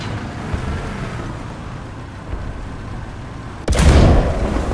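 Gunfire in a Russian 3.7 ground battle in a video game, a steady rumbling barrage of distant shots that ends in a sudden loud, close blast and a sustained roar.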